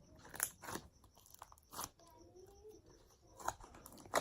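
Stretchy, crunchy blue slime being squeezed and worked by hand, giving a few sharp crackling crunches at irregular moments over quiet handling noise, close and fairly soft.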